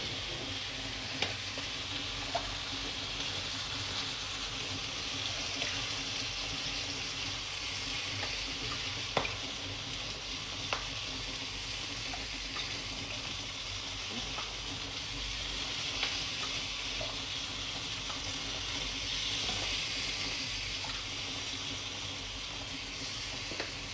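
Mung beans and pork cubes cook in a pot with a continuous sizzling hiss, broken by occasional small clicks and taps of stirring.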